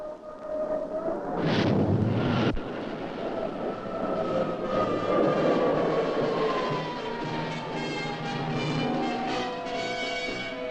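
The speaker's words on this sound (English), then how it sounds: "Watch this MiG try to evade our missiles." A MiG jet fighter evades missiles during Southeast Asia air combat. A loud, continuous roar carries a slowly falling whine, with a brief, harsh burst of noise near the start.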